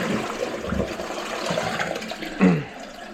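A Geberit Sigma 70 concealed-cistern toilet flushes in a short rush of close, loud water, swirling and gurgling, ending in a sharp surge of draining water.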